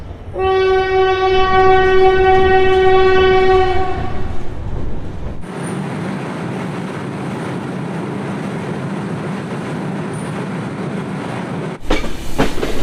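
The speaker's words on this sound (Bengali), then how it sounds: "এখন নড়াইল থেকে আমাদের ট্রেন ছেড়ে যাচ্ছে" An express train's horn sounds in a long steady blast as it departs Narail station in Bangladesh, then gives way to the loud continuous rumble of the train rolling along the tracks, with a brief jolt near the end.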